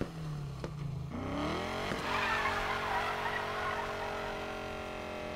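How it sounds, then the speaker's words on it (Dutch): Ford Mustang engine in Need for Speed Payback roars and revs steadily as the car accelerates hard, with a tire skid squealing through the first second before the engine note climbs and holds loud and close. "Oh ja, dat klinkt inderdaad als een Mustang."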